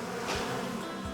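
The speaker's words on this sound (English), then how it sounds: "First frame of bees." Bees buzzing in a steady, droning hum that stays close and fairly loud through the whole moment, with no voices over it.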